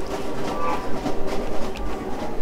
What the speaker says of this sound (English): Ooh, a train.